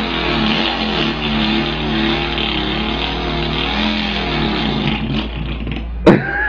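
Voice imitating a Volkswagen engine, a loud, close, continuous rumbling idle with wavering pitch that sputters and abruptly cuts off in a final stall near the end.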